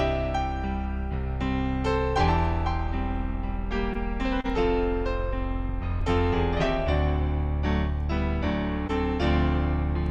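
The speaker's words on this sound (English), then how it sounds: "So it'll sound like this, just piano." An electronic keyboard plays a 3/4 waltz in piano-only mode, with clear, steady chords and a bouncing bass line filling the room at moderate volume, no voices present.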